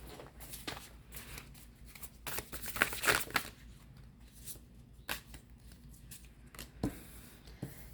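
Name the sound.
tarot cards being shuffled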